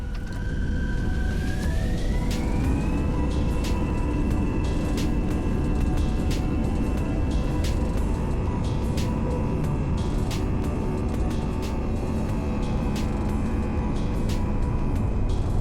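A Fenix airliner in Microsoft Flight Simulator 2020 gives a loud, continuous jet roar at takeoff thrust. A high whine climbs in pitch and then holds, and regular clicking ticks repeat over the steady rumble.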